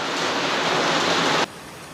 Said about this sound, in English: So it's raining pretty heavily.